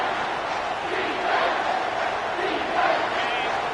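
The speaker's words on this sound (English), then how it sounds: "This crowd is trying to inspire this defense to make a big red zone stop." A football stadium crowd at a college game roars steadily during a red-zone defensive stand, a loud, dense wash of cheering that swells slightly in waves.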